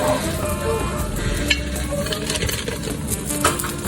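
Chicken fajita meat frying over a high flame, a steady close crackling sizzle with a few sharp metallic clinks and stirring scrapes, with no voices.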